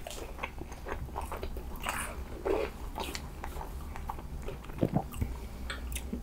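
Close-up chewing and biting of Pizza Hut pizza with Beyond Meat sausage topping, soft wet mastication with a few crunchy bites, steady and near with no talking.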